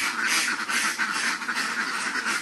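Many ducks quacking at once in a dense, continuous chorus, close and loud, with no talking.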